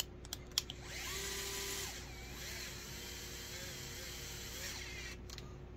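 A power driver drives screws into a plastic RC chassis from a Flub RC LCG parts kit for a Traxxas TRX4m, a faint, steady whirring whine after a few clicks, alone without talk.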